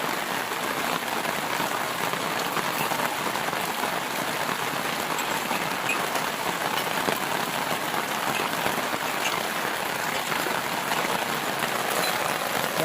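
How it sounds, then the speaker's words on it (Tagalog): Heavy rain pours steadily on a surface, a dense, constant hiss of drops with no letup, loud and close throughout. "sobrang lakas ng ulan."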